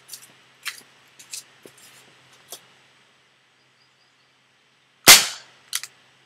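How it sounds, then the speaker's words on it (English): Anics Skif A3003 pellet pistol shot into ballistic gel, a single sharp close crack after several soft handling clicks, followed by a couple of small taps. "Second shot with the anics skiff"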